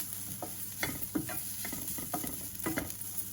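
Vegetables for veg manchow soup sauté in a pan, a continuous hiss of frying broken by repeated spatula scrapes and stirring knocks, close and fairly quiet, with no talking.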